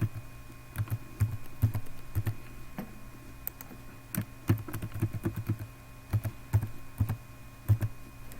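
A computer keyboard is typed on to enter a SQL Server SA password during installation, giving a run of close, crisp key clicks in irregular bursts with short pauses between.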